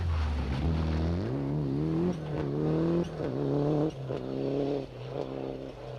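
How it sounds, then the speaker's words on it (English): A Group A Toyota rally car on a rally stage, its engine revving up through several gear changes with steady climbing pitch, loud and fairly close. "This is yet another Group A Toyota"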